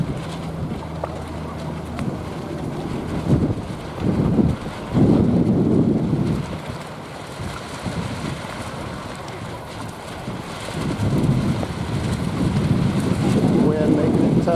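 Wind gusts across the water at a model yacht race in Foster City. It roars and buffets the microphone in uneven surges that rise and fall, with a strong burst near the end.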